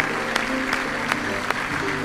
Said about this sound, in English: A good hand clap of praise.